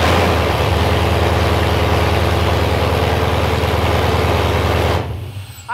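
A V8 engine swapped into a BMW E36 runs steadily, a loud, deep, throbbing idle heard up close that holds for several seconds and then cuts off abruptly near the end.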